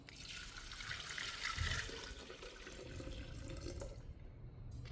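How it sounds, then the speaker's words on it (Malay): About one liter of water is poured into a container, a quiet, steady splashing trickle that swells briefly and then continues evenly before fading at the end. "Air lebih kurang 1 liter kita curah masuk"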